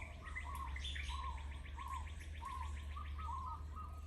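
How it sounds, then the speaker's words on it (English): Morning birdsong outdoors, with rapid repeated chirping trills and intermittent lower whistled phrases over a steady low hum, moderately distant and fairly quiet, no talking. "I hope you enjoyed the sounds of the birds this morning."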